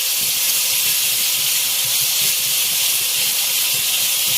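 Garlic-ginger paste and spices frying in a pan for dhaba-style fried dal mash, giving a steady, loud hiss that carries on without a break from start to finish.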